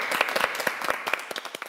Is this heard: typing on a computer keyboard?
no